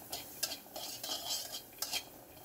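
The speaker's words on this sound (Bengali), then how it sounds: "এখন একটি কড়াইতে আমি তেল ছাড়া রসুন, কাঁচামরিচ এবং পেঁয়াজগুলোকে ভেজে নেব।" Garlic, green chillies and onions dry-frying without oil in a wok, with a few scraping stir strokes of a utensil against the pan at irregular intervals, fairly faint and close, with no talking.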